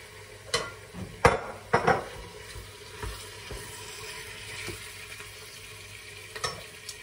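Veal pieces hit a hot Cookeo pot and sizzle in a steady frying hiss, broken by a few sharp clatters and scrapes as the meat is added and stirred.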